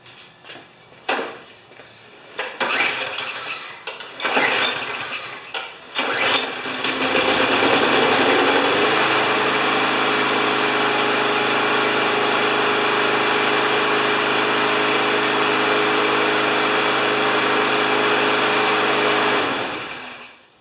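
Briggs & Stratton lawn mower engine of about 5 horsepower, long idle, pulled over a few times with sputters before catching and running at a steady, loud drone until cut off near the end.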